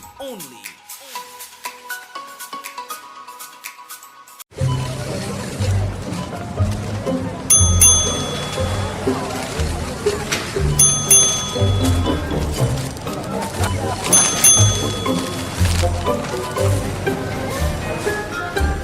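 A bright ding-ding chime from a store's frequent shopper program rings out a few times, clear and distinct over a busy shop ambience with background music and people talking.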